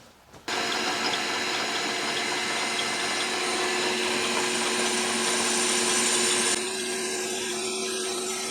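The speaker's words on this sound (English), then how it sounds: "Do a spot drill and then go to your normal jobber drill." Jobber drill boring through an aluminum ear bolt hole during a repair: a steady, whining machine drone that starts abruptly and runs for several seconds, then eases slightly near the end, with no talk.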